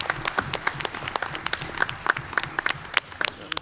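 An audience gives a round of applause at an annual general meeting as someone is called on stage, the clapping steady and fairly close, with individual sharp claps popping out of the dense patter throughout.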